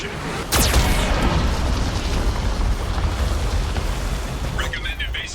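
Geth cannon fire and explosions in the video game Mass Effect 2: a sharp blast around half a second in, then a loud, continuous rumbling roar of battle with scattered crackles and pops.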